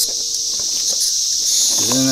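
Four cicadas held close by hand give off a loud, steady high-pitched buzzing drone, with brief handling rustles and a voice near the end.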